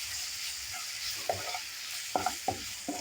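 Coriander powder and garam masala stir-fried in a pan, with a soft steady sizzle punctuated by several quick scraping strokes of a spoon, and no voices.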